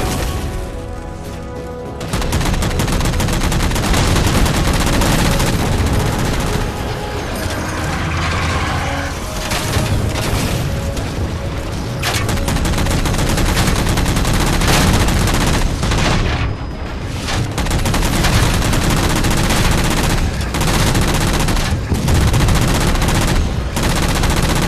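Rapid automatic gunfire from Halo 4 as jammers are shot down, a loud, dense, continuous rattle of shots mixed with mechanical clatter, pausing briefly a couple of times before resuming.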